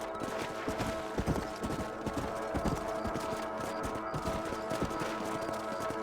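Horse hooves clip-clop steadily at a brisk riding pace in the video game Red Dead Redemption, close and clear over a continuous bed of game music and ambience, with no talking.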